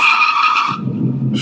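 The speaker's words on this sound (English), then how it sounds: "Now for the brake test." Cars braking hard in a brake test: a loud, close tire skid squeal that drops into a low rumbling scrub as the cars slow, with no talking.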